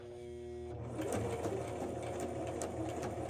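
A sewing machine stitches a waist seam being taken in, its motor whirring steadily and loudly once it starts after a quiet moment, with no talk over it.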